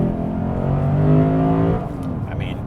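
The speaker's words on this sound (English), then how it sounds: "basically you can turn up the volume on the engine" Lexus IS 500 Ultimate Edition V8 engine revving, a loud, steady, close droning roar that climbs slightly in pitch and then drops as the revs fall.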